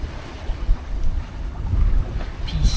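A 30ft sailboat sails in trade winds, with wind buffeting the microphone and water rushing and splashing past the hull. The sound swells unevenly and has no talking.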